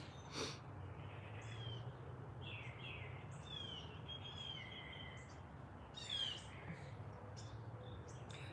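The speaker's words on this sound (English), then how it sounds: "I thought I'd keep my microphone off if that's okay so I can share the beautiful bird songs with you" Several birds chirp and sing outdoors in scattered bursts of varied calls, some near and some farther off, over a steady low background hum, with no talking.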